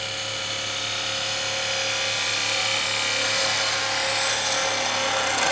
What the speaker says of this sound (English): So I can take this tool now, my spindle gouge, and start to curve again.